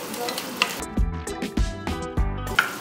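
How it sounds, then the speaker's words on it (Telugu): Cashews and onions are stirred in hot oil in a pan, a close sizzle broken by rhythmic scraping and knocking strokes of the spoon, without any talking. "జీడిపప్పు వేసి ఇది కూడా ఒకసారి ఇలా కలిపేసుకొని"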